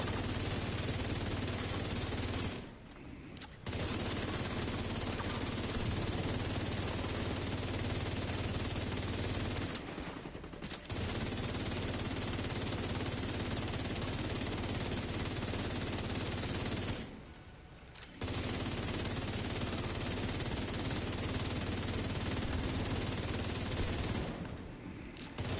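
Automatic weapon in The Division 2 firing long sustained bursts, a dense loud rattling stream broken by three brief pauses, close and continuous with no voices.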